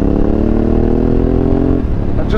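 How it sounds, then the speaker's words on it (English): Honda Africa Twin Adventure Sports motorcycle exhaust, a loud, steady engine drone with a low throb that drops in pitch near the end, heard up close. "exhaust is just beautiful. Sounds absolutely fantastic."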